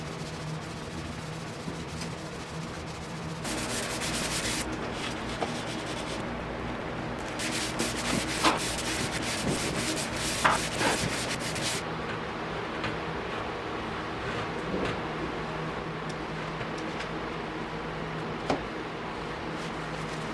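Wood being sanded by hand: close, rhythmic rasping strokes that come in loud bursts, quieten in between, then fade to softer rubbing, with no talking.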